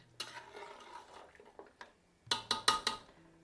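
A spoon scraping and clinking against a pot while coriander is stirred into Anglo-Indian trotter curry, scattered soft knocks at first, then a quick cluster of four sharper metallic clinks near the end, with no voices.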